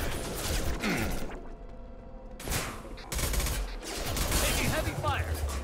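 Heavy gunfire in Mass Effect 2 combat, dense bursts of rapid automatic shots with a short lull in the middle, loud and close, mixed with impacts and whooshing effects.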